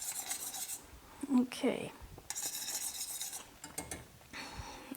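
Utensils scrape and clink against a dish while spaghetti squash and parmesan are stirred together for a shrimp dish, a few soft, close scraping strokes with brief pauses; a voice speaks briefly.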